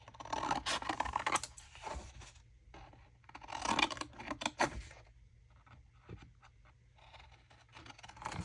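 Scissors snip through paper pieces for a junk journal, a close, quiet run of crisp cuts and rustles in bursts separated by short pauses.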